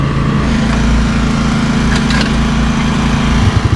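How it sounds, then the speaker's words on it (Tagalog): A Honda Dio 90cc scooter engine roars loud and close in a continuous buzzing drone, holding steady before wavering slightly near the end. "Gagalit pala ang makina."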